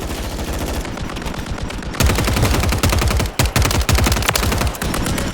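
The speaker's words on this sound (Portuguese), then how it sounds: "Atirando em mim" Rapid automatic gunfire in the Warzone game, loud and close, a continuous rattling stream of shots that grows heavier partway through and breaks briefly before resuming.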